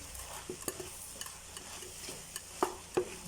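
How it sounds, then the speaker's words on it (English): Vegetables and olives being stirred in a pan for Dominican moro locrio, with soft scraping and occasional sharper clinks of the utensil against the pan over a low sizzle, close and fairly quiet. "So it's a case of keep stirring on this one, just to make sure you have everything heated through"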